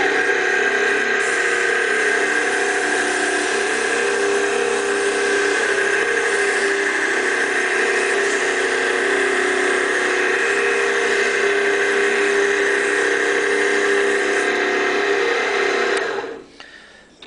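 A wooden lure body spins on a lathe while 120 grit sandpaper is held against it, giving a steady whirring drone with a constant gritty hiss that runs unbroken for about sixteen seconds before the machine winds down.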